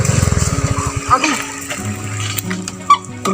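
An old motorcycle engine sputters in a quick, loud rhythmic chug for about a second, then cuts out and stalls, leaving quieter background sounds with people talking.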